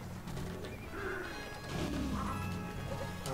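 A loud smashing crash sounds in the video game Super Mario Odyssey, with a few sharp impact bursts over busy game music and effects.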